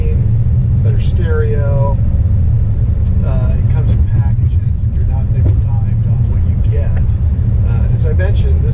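A Jaguar F-Pace SUV accelerates with a steady low engine rumble and road noise heard from inside the cabin, while someone talks over it.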